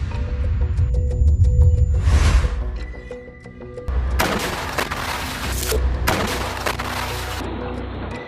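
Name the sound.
gunfire and shelling in Rafah, Gaza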